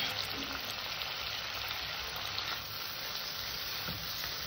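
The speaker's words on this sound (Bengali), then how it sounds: "গ্যাসটা ছোট, একদম ছোট করে দিয়ে আবার একটু কষে নেব" Rajma masala spice paste with whipped yogurt sizzles steadily in a pan over very low heat, a continuous soft frying hiss throughout without pauses, fairly quiet and close.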